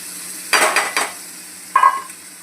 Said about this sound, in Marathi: आता यात आपण पालक वाटून घेतलेला पालक घालून घेऊ.